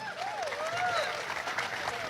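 Audience applause at an Indonesian public talk: a short, steady burst of clapping with a voice or whistle-like tones sliding over it.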